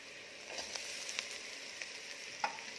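Grated coconut and browned onions roast in a pan over medium-low heat, giving a soft, steady close sizzle with faint crackles and a stir near the end.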